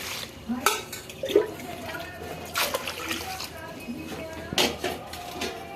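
Rice is washed by hand in water, one kilogram of it in a pot. Intermittent splashes and sloshing come in bursts, along with a few clinks against the vessel, all close by. A voice talks over the washing.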